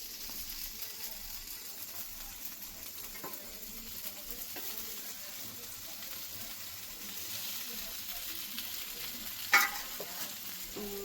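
Onion and paneer tikka fry on a tawa with a steady, faint sizzle throughout, a few light stirring clicks and one sharper tap near the end, no voices.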